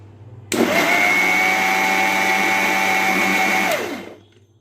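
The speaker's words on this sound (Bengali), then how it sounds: "এবার আমি ব্লেন্ড করে নেবো" A kitchen blender whirs loudly and steadily for about three seconds, mixing a batter of chhena, semolina and milk powder for Bengali pua pitha, then winds down and falls silent.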